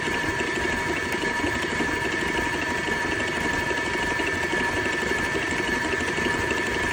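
A stand mixer with a paddle attachment beats Ovaltine sponge cake batter, giving a steady, continuous motor whir with a faint rattling hum that holds at an even level throughout, with no talking.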